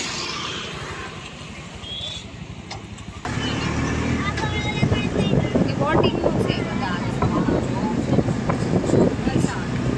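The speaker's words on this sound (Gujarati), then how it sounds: "અહીંયા આ બેન રિક્ષા ઊભી રાખે છે જો" An auto rickshaw rattles along and then idles as it pulls up, its small engine chugging under wind noise, with people talking close by.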